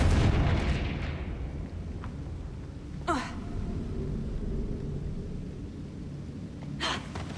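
A Confringo spell explodes in a video game: a sudden burst with a bright crackling attack, then a second blast a few seconds later, both over a low rumbling background.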